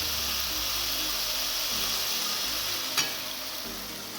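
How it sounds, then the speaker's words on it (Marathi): Continuous loud sizzling from a hot pan as water is poured in, with a brief clatter near the end; no voices. "आता यामध्ये आपण सोडणार आहे पाणी"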